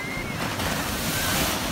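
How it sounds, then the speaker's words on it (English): Ocean waves roll onto Onjuku beach in Japan, giving a steady, broad wash of surf mixed with wind buffeting the microphone, close and continuous with no break. "look at the waves"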